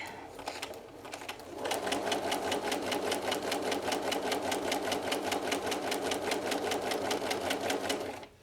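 A sewing machine stitches fabric for paper piecing. After a quiet second or so, it runs in a fast, even, rhythmic clatter for about six seconds close to the microphone, then stops.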